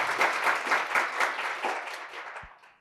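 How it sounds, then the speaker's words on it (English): Audience applause welcoming the founders of a hacker space to an evening talk, rhythmic group clapping from a modest crowd that swells briefly and then tapers off to silence. "let's give them a round of applause and welcome them"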